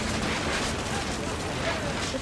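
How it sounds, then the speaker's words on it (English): Thunder rumbles in the What Remains of Edith Finch video game during a storm over a camping tent, a broad, heavy, continuous roar that stays loud and close throughout, with a voice narrating over it. "The thunder sounded much too close and full of angry power"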